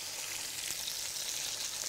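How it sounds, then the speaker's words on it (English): Pork ribs sizzle in hot oil in a pan, a steady, close crackling hiss with no break across the whole moment and nobody speaking over it. "Put a bit of oil in there, nice and sizzling."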